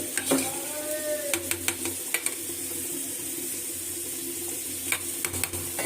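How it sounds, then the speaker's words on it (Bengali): Rice stirred in a cooking pot with a spoon, giving a few sharp scraping knocks over a steady low sizzle and bubbling, close and moderately loud. "ভাতটা একটু নাড়া দিয়ে নেই"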